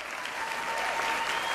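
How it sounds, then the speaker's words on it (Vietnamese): Steady applause from a large television singing-competition audience, dense and continuous, filling the short moment without any voices standing out. "huấn luyện viên Quang Lê một tràng pháo tay thật lớn hơn nữa được không ạ"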